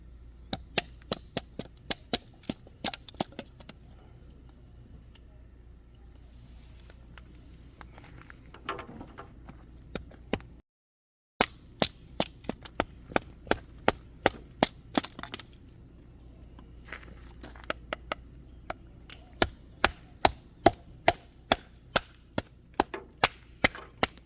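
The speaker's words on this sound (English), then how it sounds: "So here I'm in the woods and I'm processing wood and making a fire." A knife chops and splits wood in the woods to make a fire, with many sharp, close woody strikes in an uneven rhythm over a quiet outdoor background.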